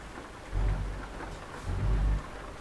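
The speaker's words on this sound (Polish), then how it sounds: "Ja sobie tylko jeszcze ustawię ten deszcz." Steady rain hisses over the whole clip in the Euro Truck Simulator driving game, with two deep rolling thunder rumbles swelling and fading near and loud.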